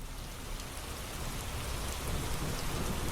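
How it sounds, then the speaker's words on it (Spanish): Heavy rain pours steadily with a low thunder rumble beneath it, a constant, fairly loud broadband hiss that swells slightly toward the end, with no speech. "Ve que está lloviendo."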